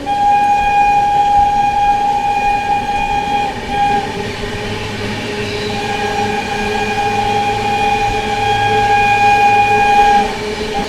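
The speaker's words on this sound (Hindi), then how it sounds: "क्या मस्त हॉन्किंग कर रहा है भाई" Horn of the Darbhanga Sampark Kranti express locomotive sounding in long sustained blasts over the steady rumble of the moving train, close and loud, with brief gaps between tones.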